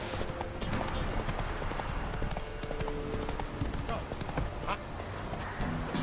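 Roach, the horse in the Witcher 3 video game, clip-clops at a steady walking rhythm. The hoofbeats are close and continuous beneath ambient game noise, and voices talk over them.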